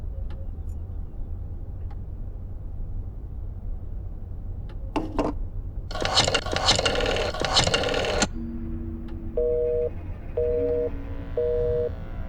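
Telephone dialing in the Black Mirror 2 game: a few clicks, then a loud burst of keypad or line noise, followed by a steady repeating busy signal of short two-tone beeps over a low hum.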